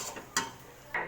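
Fried taro leaves being ground on a stone slab, giving a few sharp scraping knocks and gritty rubs, close and fairly faint, with no talking.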